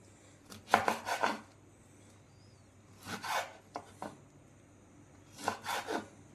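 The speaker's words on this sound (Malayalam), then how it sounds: "ഒന്നും കൂടി അരിയുക." A knife chops vadukapuli lime for pickle on a cutting board in three short bursts of quick, close strokes separated by quiet pauses.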